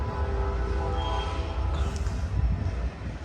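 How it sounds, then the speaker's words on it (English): A Union Pacific freight train rumbles past westbound, a steady, loud low roar of wheels and engine with faint metallic tones above, continuous throughout with no talking. "they're gonna Union Pacific train right there going westbound."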